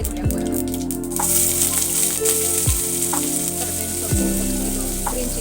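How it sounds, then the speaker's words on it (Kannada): Mustard seeds hit hot oil for egg curry and crackle in a dense, steady sizzle, with a few louder pops and a stirring clatter, close up and without speech. "ನೋಡಿ ಇವಾಗ ಸ್ವಲ್ಪ ಸಾಸಿವೆ ಹಾಕ್ಕೊಳ್ಳೋಣ"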